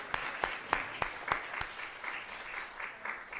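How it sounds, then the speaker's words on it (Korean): A church congregation at a Korean Sunday service applauds to welcome visiting members, opening with several sharp, evenly spaced claps that swell into a steady round of mixed clapping filling the room. "박수 한번 하겠습니다"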